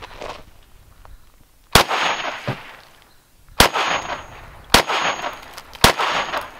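A rifle fitted with an EOTech sight fires four loud, sharp shots at soda cans outdoors. Each crack is spaced roughly a second or two apart, with short decaying echoes and no talking.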